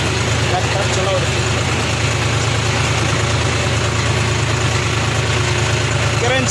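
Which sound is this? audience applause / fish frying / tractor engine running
tractor engine running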